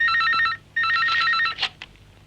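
An old-style telephone bell rings indoors in a Kannada film scene: two loud, buzzing ring bursts with a short gap between them, then a couple of soft clunks as the ringing stops. No one speaks.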